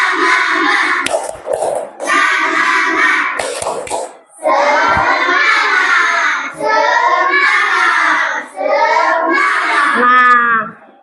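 Schoolchildren in a class chanting a rhythmic 'tepuk semangat' clap routine, bursts of sharp hand claps punctuating loud, close, sing-song group voices.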